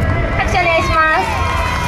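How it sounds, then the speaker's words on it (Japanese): A brief stretch of audience clapping at a high school cheerleading show at a port festival, a rough wash of hands with a speaking voice running over it. "拍手お願いします。"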